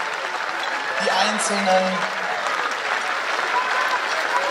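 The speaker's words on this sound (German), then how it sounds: "die Musiker aus dem römischen Leben mit einem großen Applaus aus der Arena" Crowd applause fills an arena at a Roman-themed festival procession, a steady wash of clapping throughout, with a voice speaking over it.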